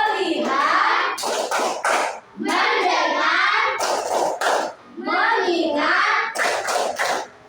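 A class of children chants in unison between bursts of rhythmic group clapping, the tepuk fokus routine, with the claps landing as sharp, loud clusters in the pauses between the chanted lines.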